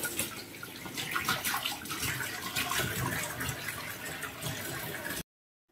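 Tap water runs steadily for about five seconds, filling a container to wash and water a dusty indoor houseplant, then stops abruptly; a continuous close splashing stream with no talk.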